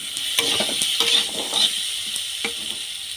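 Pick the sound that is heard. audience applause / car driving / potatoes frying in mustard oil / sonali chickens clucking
potatoes frying in mustard oil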